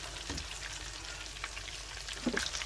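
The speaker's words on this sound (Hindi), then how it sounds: "फिश के पीसीस को फ्लिप कर लिया है, इनको हम अच्छी तरह से हल्का हल्का प्रेस करेंगे ताकि अंदर तक ये कुक हों।" Besan-coated fish pieces frying in a pan, a steady close sizzle with a few brief louder crackles and spatters near the end.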